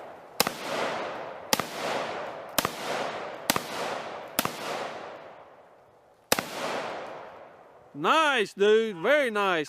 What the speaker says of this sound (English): shooting the Ruger GP100 chambered in 357 Magnum